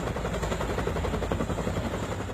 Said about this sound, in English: That Chinook helicopter picks up more than 600 gallons of water from the river each time it goes.